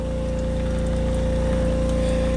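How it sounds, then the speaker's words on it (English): Hot engine coolant drains steadily from a Saab Turbo, with a low mechanical hum underneath, continuous and close, no talking. "I've just cracked it off and I'm draining it out"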